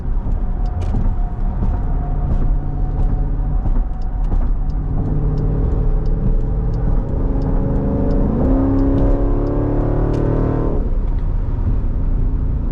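Jeep SRT accelerating hard on a highway, loud engine roar building steadily with rising harmonics across several gear pulls, continuous and close with no talking.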